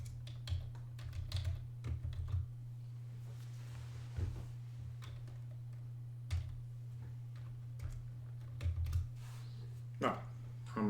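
Computer keyboard typing in scattered bursts of sharp clicks separated by pauses, close and fairly quiet, over a steady low electrical hum.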